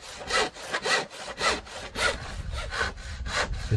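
A hand saw cuts through one wide wooden board in a steady back-and-forth rhythm, about eight rasping strokes close to the microphone with no talk.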